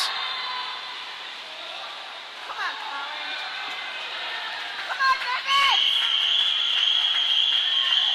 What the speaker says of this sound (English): Teammates down at the end of the pool cheering for the relays.